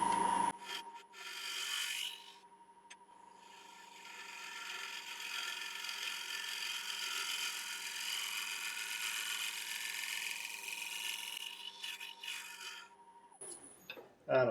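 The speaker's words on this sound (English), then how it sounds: "Or one more scrape, I should say." A scraper cuts a mulberry wood bowl on a spinning lathe, a steady, raspy scraping hiss that runs for most of the clip over a constant motor hum, beginning and ending with brief knocks and tool noises.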